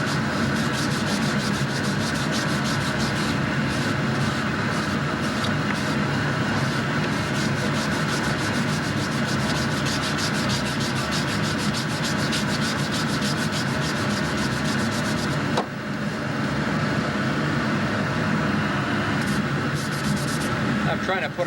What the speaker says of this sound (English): trying to put a nice final sanding on this back piece